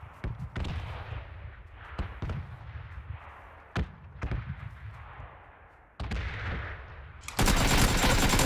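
Video game gunfire cracks out in sharp, separate shots spaced irregularly, each with a short echoing tail. A denser, louder burst comes near the end.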